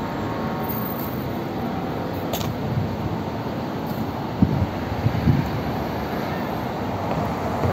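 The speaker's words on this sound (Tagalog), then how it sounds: "lakas ng hangin" Strong wind roars and buffets across the microphone in a steady rushing wash, with a few faint knocks and no voices.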